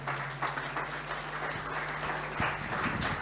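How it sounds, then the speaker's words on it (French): A church congregation applauding at an Easter seminar service, a faint, steady patter of clapping that carries on throughout over a low electrical hum. "Est-ce qu'on peut acclamer la parole du Seigneur?"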